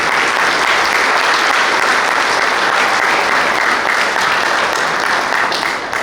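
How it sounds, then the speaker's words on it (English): Steady, loud applause from a large crowd at a boys' lacrosse banquet, dense clapping sustained throughout without pause. "Give them a round of applause as well."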